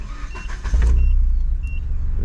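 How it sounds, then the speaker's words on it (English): A car started in a test of an intercepted shifter actuator, with a rising low rumble that settles into a steady idle after some whirring and clicks. "right, we start the car"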